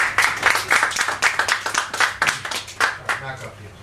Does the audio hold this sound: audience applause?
yes